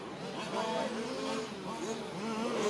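Race cars at speed on the straightaway during a RAMS 2024 Toys for Kids STC B main event, engine tones rising and sliding as they pass, heard under continuous commentary.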